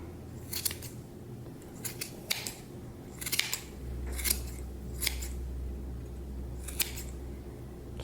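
Scissors snip through yarn for a clay pot gnome's beard, about eight sharp separate cuts spaced irregularly over a low steady background hum, close and clear with no talking.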